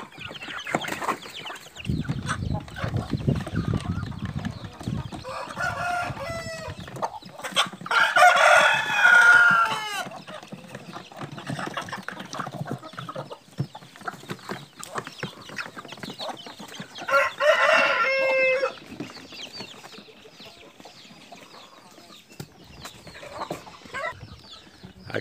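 A rooster crows loudly several times among a flock of farm chickens that cluck and murmur steadily nearby, with no one talking.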